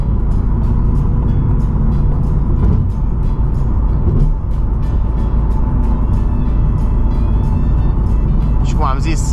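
Car driving along a road in Las Vegas, with a steady engine and tyre rumble throughout and a loud, close sound, while a person talks over it.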